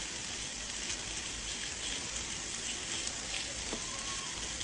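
Ground meat fries with browned onions in a pan, giving a steady, dense sizzle and crackle throughout with faint scraping of a spoon pressing the mince apart.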